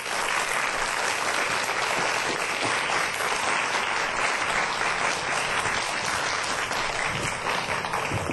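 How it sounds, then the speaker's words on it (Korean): A studio audience claps steadily to welcome a professor taking the stage for a televised science lecture on addiction, even, continuous applause with no talking over it. "박수로 맞이하도록 하겠습니다"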